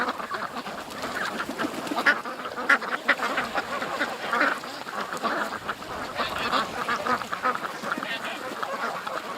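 Several ducks quack in a steady, overlapping chatter at close to moderate distance, with louder individual calls rising now and then over a soft outdoor background.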